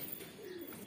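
Pigeons at a rooftop loft in Ballia, India, with a soft, low cooing call rising out of a faint background hum, close and quiet for under a second.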